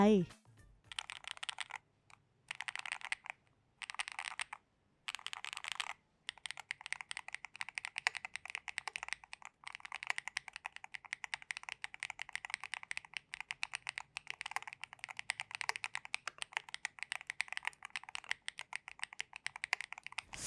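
Fast, continuous typing on an ATK x QK Hex80 magnetic-switch mechanical keyboard, the keystrokes soft, firm and muted, starting in short bursts with pauses and then running steadily.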